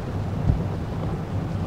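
Steady rain with a low thunder rumble outdoors in mountainous Sapa, a continuous dense wash of sound with one brief low swell, no voices.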